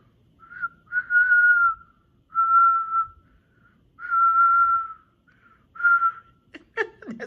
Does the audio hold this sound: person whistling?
yes